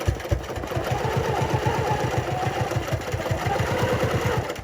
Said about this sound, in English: I will get the hang of stitching in the ditch.